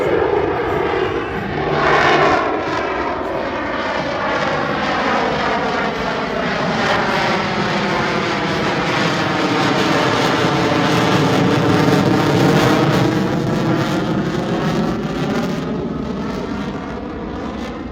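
A loud, sustained military jet engine roar fills the air at an air show, its pitch sweeping and phasing as the aircraft decelerates to hover nearby; no talking.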